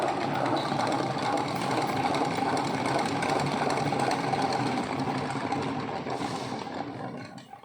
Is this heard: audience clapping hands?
no